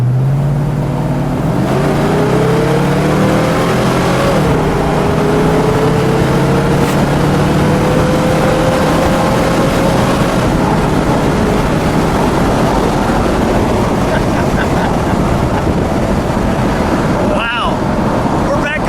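A 1969 Ford Torino Talladega with a 428 Cobra Jet engine cruises steadily, its engine drone and road rumble filling the cabin at a moderate, continuous level, with a brief clunk near the end.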